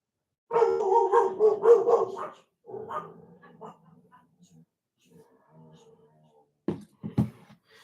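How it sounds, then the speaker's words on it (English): Dogs bark in bursts during a live Champions League watchalong, a run of loud yaps early on, a brief pause, then two sharper barks near the end. "Excuse the dogs in the background if anyone heard that."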